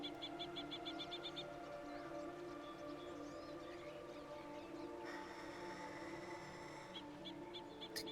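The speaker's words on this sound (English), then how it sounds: "There's a really annoying bird to our right." An annoying, croaking, screeching bird in a video game, giving a quick run of repeated shrill chirps and then harsh squawks over a constant low ambient drone, faint and off to one side.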